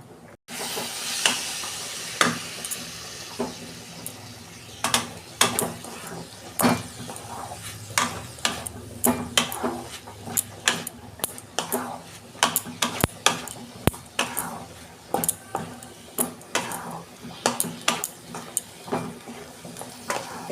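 Grated coconut with two cardamom pods dry-roasts in a wok on a gas stove, a soft hiss under repeated scraping and clinking strokes of a spatula against the metal, irregular and close.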